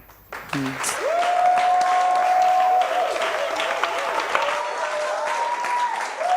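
A church congregation applauding, sustained clapping rising suddenly and holding steady for several seconds, with voices singing or speaking over it.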